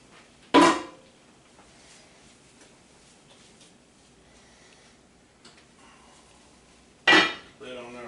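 A metal lid set onto a pot of orzo pasta: two sharp clanks several seconds apart, the second followed by a brief rattle, with quiet kitchen background between.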